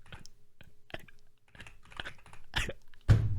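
Typing on a computer keyboard, a close, irregular run of key clicks in uneven bursts with short pauses, ending in a louder thump, heard without talk.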